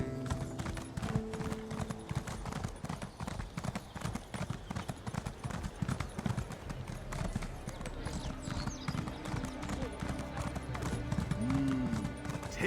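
Horse hooves clip-clop in a quick, steady galloping rhythm throughout while riding in the fantasy game The Elder Scrolls Online, with music and some speech running underneath.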